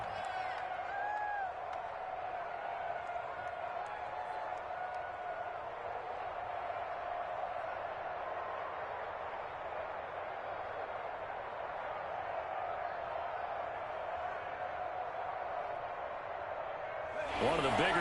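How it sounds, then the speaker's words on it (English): A football stadium crowd at a Bengals at Chiefs game roars steadily ahead of a big third down. The loud, continuous crowd noise runs under an announcer's voice and swells sharply at the very end. "The crowd getting into it as we come up on a big third down."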